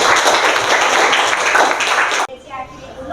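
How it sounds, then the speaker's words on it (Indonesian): A classroom of pupils clapping together after morning prayer, with dense, steady hand claps close by that stop abruptly near the end, leaving a quieter room. "tepuk tangan untuk kalian semuanya"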